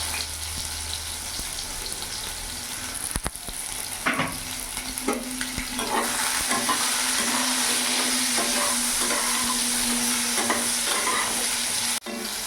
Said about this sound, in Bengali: বেগুনটা ততক্ষণ এখানে ভাজা হোক